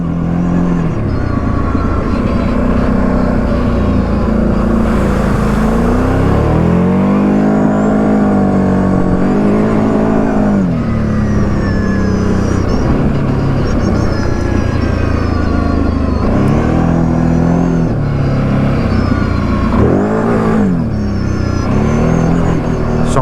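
An ATV fitted with an iron skid plate crawls over rocks and boulders, its engine droning loudly and continuously, rising and falling in pitch as the throttle changes, close to the listener.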